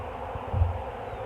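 A honeybee swarm being gathered buzzes at a nucleus hive, a dense low drone of many wings held steady and close, swelling briefly in the middle.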